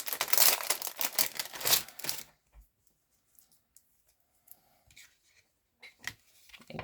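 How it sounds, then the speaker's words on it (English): Tear tape being handled for a Stampin' Up paper craft project. Busy crinkling and rustling of paper and tape is heard up close at first, followed by quieter, scattered soft taps and crinkles with no talk. "I'm going to use tear tape just to be on the safe side."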